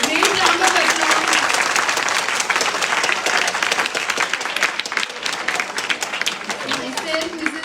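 Loud, sustained audience applause after a school science demonstration lecture, a thick continuous clatter of many hands with a few voices surfacing briefly.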